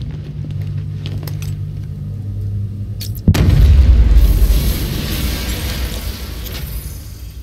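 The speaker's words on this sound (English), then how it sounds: "I'm not far enough away to detonate the explosive." An explosive cache detonates in Batman Arkham Knight: a sudden loud boom partway through, followed by several seconds of heavy rumbling debris and a slowly fading roar over steady game ambience.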